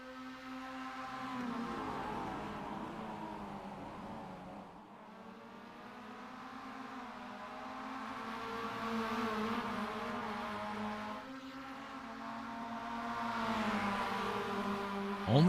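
Mazda MX-5 Cup race cars in a sim racing game drive through the final corners, their engine notes rising and falling in steady layered whines as several cars rev and shift, with no voices.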